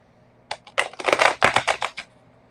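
Tarot cards shuffled during a live card reading, a quick run of crisp riffling bursts and flutters lasting about a second and a half, close and fairly loud, with no talking.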